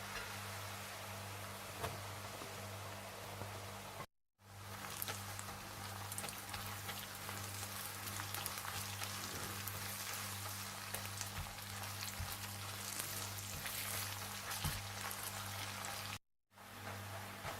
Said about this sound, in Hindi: जैसे ही लहसुन थोड़ा सा भुन जाए तो आप इसमें अदरक डालकर अच्छी तरह से भून लें।